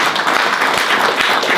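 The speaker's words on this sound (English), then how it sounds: "Round of applause for this." Applause breaks out at a boxing post-fight press conference, a dense, close burst of clapping that stays even and loud throughout.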